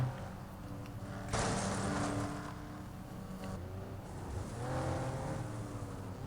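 Racing car engine in the FlatOut video game, roaring steadily as it overtakes another car on a woodland track, with a surge in loudness midway and tonal engine whine throughout, no talk.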